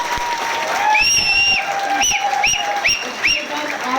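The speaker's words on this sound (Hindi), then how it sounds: "सीटीसी अजीत सर के लिए 2000 तालियां।" Applause from an audience at a business meeting of distributors, steady clapping throughout with some high whistle-like tones and a voice talking over it.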